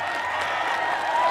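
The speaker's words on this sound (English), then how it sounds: "clap it up for the first episode" Applause from a small audience celebrating the first episode of a podcast, heard as a short burst of steady dense clapping throughout, with no talking over it.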